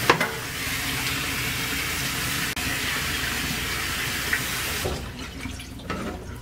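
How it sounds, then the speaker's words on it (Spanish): Tap water runs as a beef tongue is rinsed under it, a loud, steady rush that splashes over the meat and then cuts off abruptly, leaving only faint clatter. "ahora sí voy a enjuagar muy bien"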